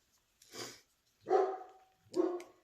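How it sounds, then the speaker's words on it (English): Dogs bark indoors in three separate sharp woofs spaced roughly a second apart, fairly close and clear with quiet gaps between, no talking. "Sorry about the dogs."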